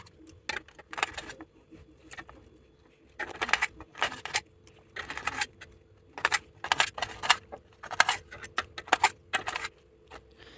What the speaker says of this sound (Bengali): তো এবার একটি ছুরির সাহায্যে এইভাবে কেটে নিচ্ছি।